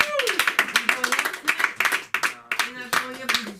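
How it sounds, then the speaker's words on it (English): Scattered hand claps ring out close by at a comedy open mic, overlapping with voices talking and cheering, a small burst of applause rather than a large crowd. "Round of applause."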